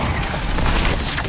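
Expelliarmus spell cast in Hogwarts Legacy, a brief loud booming whoosh with a dense crackling burst filling the whole moment.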